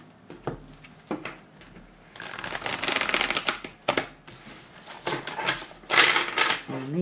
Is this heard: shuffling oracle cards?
yes